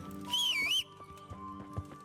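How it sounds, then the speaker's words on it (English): A horse gives a short high whinny in the medieval video game Kingdom Come: Deliverance, followed by soft scattered hoof clops on the ground, fairly faint overall. "My magical teleporting horse, because this game's so realistic."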